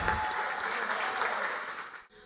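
Audience applause at a city council session in Cascavel honoring a new honorary citizen, a dense steady wash of many hands clapping that fills the room, then cuts off abruptly near the end.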